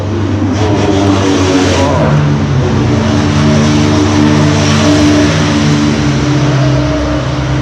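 An Audi RS3 TCR race car engine revs loudly up close, a deep, rough, buzzing drone that rises and holds in pitch with a continuous heavy rumble.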